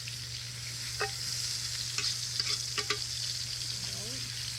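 Butter sizzles steadily in a pan over an open outdoor fire, a constant bright hiss with a low steady hum beneath and a few soft clicks and taps scattered through.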